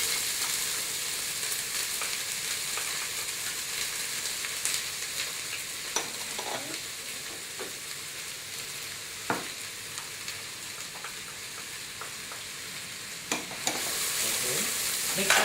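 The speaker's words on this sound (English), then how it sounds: "we can put in the diced onion and garlic here" Diced onion and garlic sizzle over medium heat in a pot for an orange-fleshed pumpkin soup, giving a continuous mid-level frying hiss with occasional crackles and clinks of a stirring utensil, heard alone.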